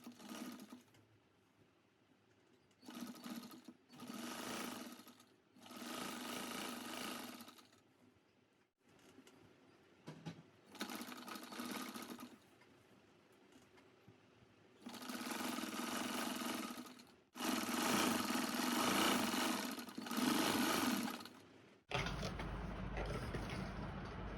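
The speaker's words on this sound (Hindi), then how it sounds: "अब हम उसको सिलाई लगा करके और ये सलवार को पूरे में किनारे सिलाई लगा करके पैक बंद कर देंगे" Sewing machine stitching the edge of a salwar hem, running in several bursts of steady mechanical whirring separated by short pauses, close and fairly loud with no talk.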